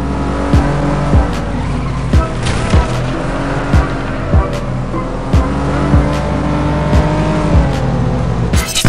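Engine roar of a motorcycle racing game, Moto Racer 3, played on a government-issued netbook, loud and steady with rhythmic revving surges and repeated sharp transient clicks or skid bursts roughly every second, no voices.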